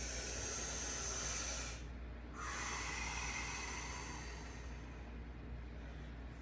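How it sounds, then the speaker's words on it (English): A person takes a deep inhalation while leaning forward during a mobility and breathing exercise, heard as steady close breath noise with a brief pause near the middle. "I'm going to breathe in."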